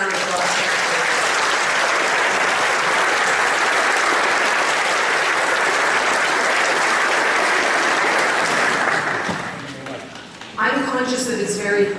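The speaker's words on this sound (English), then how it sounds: "Let's give a round of applause" Audience applause at a 2017 by-election debate in a warm hall, a loud, dense wash of clapping that holds steady for about nine seconds, then thins and fades as a voice begins speaking.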